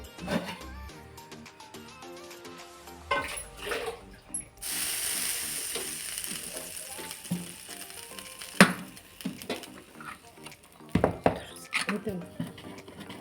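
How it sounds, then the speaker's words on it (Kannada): A cut onion is rubbed across a hot stone dosa griddle on a stove, making a steady hissing, scraping sizzle in the middle of the clip with scattered clatter and knocks before and after. "ಕಲ್ಲಿಗೆ ಸ್ಟವ್ ಹಚ್ಚಿದ್ದೀನಿ ಈಗ ನಾನು ಈರುಳ್ಳಿ ತಿಕ್ಕಿದ್ದೀನಿ"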